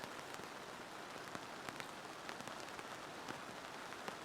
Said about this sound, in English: the rain was just starting to come down again